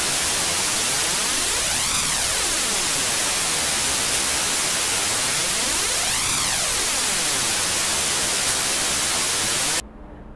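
A modulation delay effect with its feedback being adjusted produces a dense, hissing wash whose sweeping tone rises and falls in two slow arcs, staying loud and continuous before abruptly dropping away near the end.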